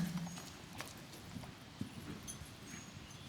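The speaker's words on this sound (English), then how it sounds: "let me see just a little bit canter" Hoofbeats of a horse cantering during a riding lesson, a soft, quick, rhythmic clip-clop on soft footing, fairly faint, with no voices over it.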